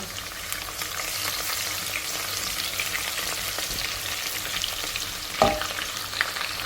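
Onion frying in hot oil for Ghana jollof, a steady close sizzle throughout with a brief louder stir or crackle near the end.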